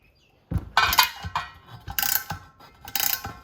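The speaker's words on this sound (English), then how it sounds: "Now as I ratchet this, it's bringing in the back side." An Aerobolt rivnut nutsert tool is ratcheted while setting a rivnut for 1934 Chevy truck running board spacers, giving loud, close bursts of clicking pawl ticks in several quick strokes separated by short gaps.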